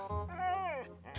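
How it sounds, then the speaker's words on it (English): A highly strung dog gives a close, drawn-out whimpering whine that rises and falls over about a second, with a short yip at the end and steady low background hum indoors. "these dogs of mine, they are so highly strung."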